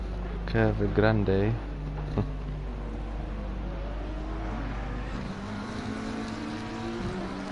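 A McLaren race car drives through Curva Grande at Monza, a steady engine drone with a rising whine from a nearby car early on, carried under continuous commentary.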